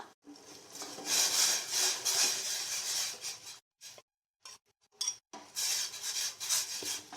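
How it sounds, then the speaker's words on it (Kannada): Ragi (finger millet) flour is stirred into boiling water in a pot, producing repeated scraping and rubbing strokes of a spoon against the vessel, loud and close, broken by a couple of brief pauses. "ಚೆನ್ನಾಗಿ ಮಿಕ್ಸ್ ಮಾಡ್ಕೊಂಡ್ಬಿಡೋಣ ಈಗ"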